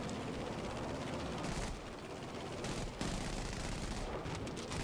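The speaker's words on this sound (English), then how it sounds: "Now I'm getting shot at." Dense video game gunfire fills the scene as a continuous loud barrage of rapid shots and bursts, with brief dips in intensity between volleys.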